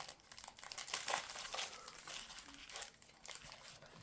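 Pokemon GO booster packs from a Premium Collection crinkle as they are shuffled, the foil wrappers rustling and crackling close by in busy bursts. No one speaks.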